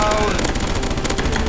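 Counter-Strike: Source zombie escape match on a Sandstorm map: rapid, continuous automatic gunfire rattles loud and dense for the whole short stretch, several weapons firing at once with no pause.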